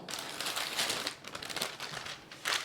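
Folded parchment or baking paper is snipped and crinkled while being trimmed smaller to fit over meat in a pot of Kashmiri rogan josh, giving a close, steady papery rustle with brief crisp cuts and a louder crackle at the end.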